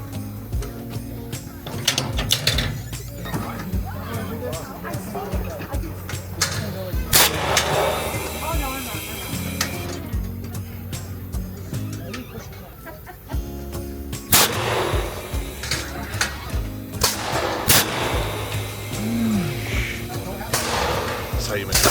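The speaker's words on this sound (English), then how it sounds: "Got my tickets for the apple cannons." Apple cannons fire at targets at a Pennsylvania family farm corn maze, giving several sharp, loud booming shots at irregular intervals over steady outdoor crowd noise and talk.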